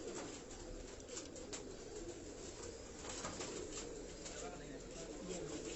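Pigeons coo softly in and around a cage, low murmuring calls and occasional flutters set against a steady wash of background noise.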